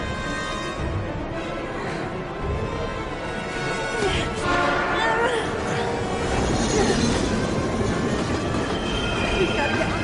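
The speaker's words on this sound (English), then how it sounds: "We've got to get on that train, Ethan." A train passes in the video game Heavy Rain, a loud continuous rumble of wheels on rails with metallic squeals and clatter building over ten seconds, voices faintly mixed in.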